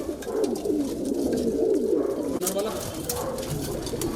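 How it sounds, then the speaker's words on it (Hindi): Soft, low cooing of a kalpare high-flyer pigeon in a loft rolls on continuously, close and steady, with faint background noise. "ये देखिए, ये एक कबूतर है।"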